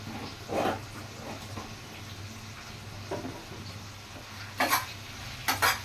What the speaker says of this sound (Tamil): இப்போ இது எண்ணெயிலே நல்லா வதங்கி வரணும்